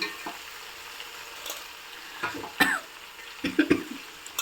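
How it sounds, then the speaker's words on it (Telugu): Amaranth leaves sizzle faintly in a pan at close range, with soft crackles and a few brief clatters of stirring. "ఇప్పుడు వేసుకుందాం, అది ఫ్రై అయ్యాయి కదా, ఆకుకూర వేసుకుందాము"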